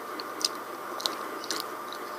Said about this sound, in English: she saw Pinkie pop something red into her mouth and began to chew